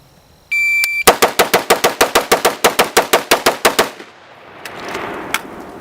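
A shot timer gives a short electronic beep, then a Smith & Wesson M&P15 AR-15 rifle fires about twenty loud, rapid shots in an even, fast rhythm before the firing stops and leaves a faint echoing tail.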